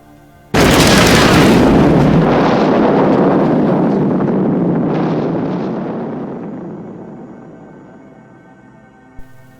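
A cannon fires with a sudden loud boom that rolls into a long, slowly fading rumble lasting several seconds.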